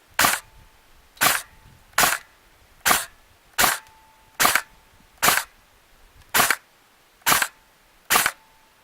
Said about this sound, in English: I'm going to fire some shots on semi-auto first